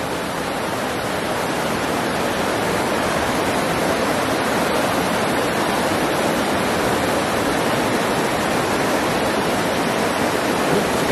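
A stream running higher than normal after rain makes a loud, continuous rushing roar like a small waterfall, steady and close throughout, with no talking.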